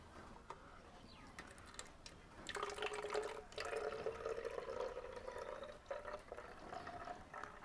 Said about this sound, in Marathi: आपल्याला हे जे पाणी ना ते आपल्याला ह्याच्यात बाटलीत हे ओतून घ्यायचे